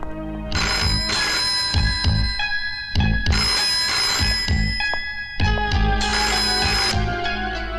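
Telephone ringback heard after dialing a call in a Hindi action film scene, repeated electronic ring bursts in a steady pattern with short gaps, loud and clear with no talking.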